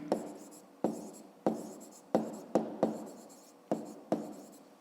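Pen strokes on paper while working a fifth-grade maths problem, about eight short scratching bursts in an uneven rhythm, close and clear with nothing else over them.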